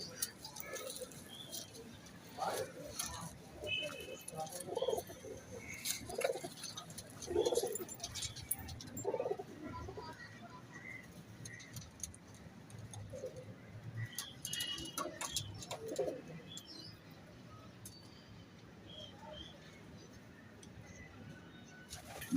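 Teddy high-flying pigeons in a breeding setup give soft, repeated throaty coos at moderate distance, scattered over a low background with faint voices and light movement.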